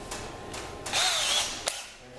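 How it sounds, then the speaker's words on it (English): Power drill fitted with a 1/8 inch bit boring out the center rivet of a snap, short whirring bursts that rise into a louder grinding spin, close and alone. "take our drill and an 1/8 inch drill bit"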